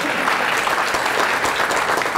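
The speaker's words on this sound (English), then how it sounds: "clap for them all now" An audience claps for elected officials, state senator and assembly members, at a mayoral address at a graduate film school; steady, dense applause fills the room throughout, loud and continuous without pause.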